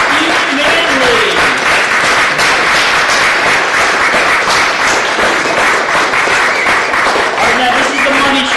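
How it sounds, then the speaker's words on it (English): Sustained, dense clapping from a convention crowd at a Star Trek Irregulars panel greets the guest actors, loud and continuous, with faint voices rising through the applause. "A round of applause for"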